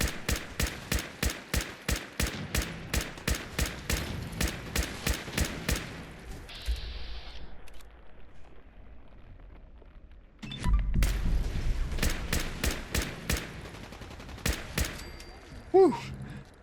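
Rapid gunfire against a large Mirelurk in Fallout 4, with steady bursts of shots, a pause with deep rumbling, then more shooting and heavy thuds at the end, loud and close with no talking.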